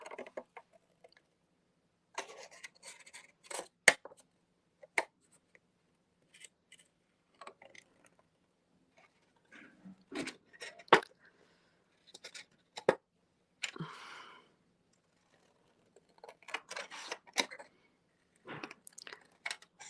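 Scissors snip through a sheet of Shrinky Dinks plastic, sharp crisp cuts coming in irregular bursts separated by quiet pauses, close and without talk.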